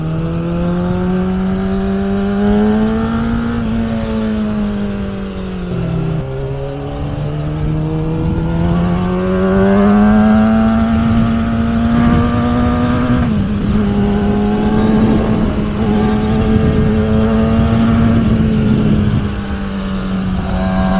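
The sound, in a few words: engine revving through a new exhaust pipe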